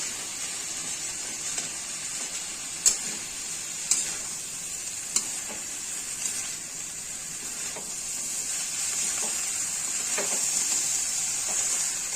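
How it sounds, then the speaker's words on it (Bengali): Ground garlic frying in oil in a pan next to fish gives a soft, steady high hiss with a few light clicks and knocks from the pan, no voices. "এইভাবে মাছ বরাবর তেল দিয়ে রসুনটা ভেজে নিব"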